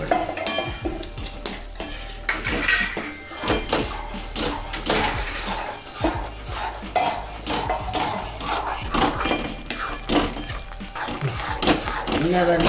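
A ladle scrapes and knocks steadily around a pan of thick black urad dal kali, giving busy, continuous metallic clatter and scraping up close, with a voice talking now and then over the stirring.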